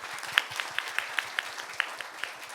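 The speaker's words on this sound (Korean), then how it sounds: "우선 3부에 큰 좋은 발표해 주신 패널 여러분들께 큰 박수 부탁드립니다" Forum audience at a Korean roundtable on high-level radioactive waste safety management applauding the panel, a soft, steady patter of scattered clapping with a few sharper nearby claps, no talk over it.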